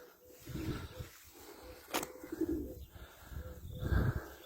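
A young play pigeon (oyun kuşu) squab coos softly in a bird loft, giving a few faint, low, throaty coos over background noise, with one sharp click in between.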